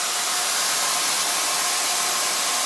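Steady, loud airflow roars from a hair dryer fitted with a diffuser while it blow-dries curly hair, an unbroken broadband whoosh held at even strength throughout with no talking.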